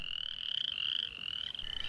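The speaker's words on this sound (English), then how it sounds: "found this frog singing" A frog sings on the prairie at evening, giving a loud, continuous high-pitched trill that runs steadily throughout, close by with no other sounds around it.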